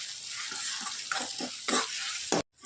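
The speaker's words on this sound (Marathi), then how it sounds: "हे लाल मिरची पावडर आणि हा पावभाजी मसाला. त्याला मिक्स करून घेऊया." Red chili powder and pav bhaji masala being stirred into a sizzling pan, with repeated scraping spoon strokes over a steady frying hiss, close and fairly loud, ending abruptly.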